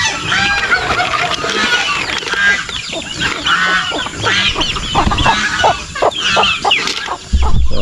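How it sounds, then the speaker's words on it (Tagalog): A crowd of young turkey poults mixed with chicken chicks chirps and peeps continuously and loudly, many overlapping high calls close by with no pause. "Mga sisiyo ng pabo. Ah, halo din yan, may sisiyo ng manok din sa loob."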